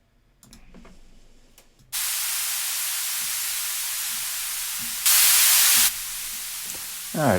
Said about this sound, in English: let's open that up just to get some white noise in here.